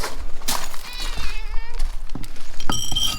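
A cat meows loudly and close up, a long drawn-out wavering cry followed by shorter calls, with some clatter in the background.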